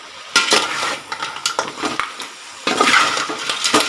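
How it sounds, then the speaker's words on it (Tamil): Crab pieces are mixed with masala in a large pot, giving close, loud scraping and clattering of a utensil against the metal, with irregular strokes and a denser burst of stirring near the end. "நீங்களும் உங்கள் வீட்டில் பெரிய பாத்திரமாக வச்சு கலந்து விடுங்க."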